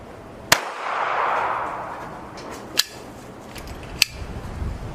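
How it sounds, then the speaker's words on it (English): An old gun fires three sharp, loud reports spaced a couple of seconds apart, with a shot failing to extract, each crack ringing out over a faint outdoor background with no talking. "It's been a long time since I fired this old gun."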